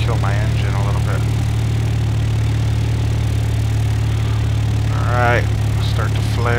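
Aircraft engine in the X-Plane 10 flight simulator game droning steadily at low pitch while throttled down on approach, constant and fairly loud throughout, with someone talking over it.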